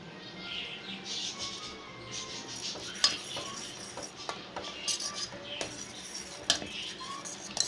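A spoon stirs milk mixed with ground cashews and almonds while making bread rasamalai, giving light, irregular clinks and scrapes against the pan, fairly close, with no talk.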